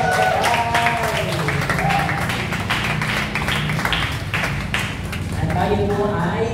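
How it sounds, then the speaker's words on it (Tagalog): A church congregation claps during a worship service, with a crowd applauding under music and voices, rising and falling in bursts over several seconds. "Malakas na palakpak kay Yahweh Shaddai."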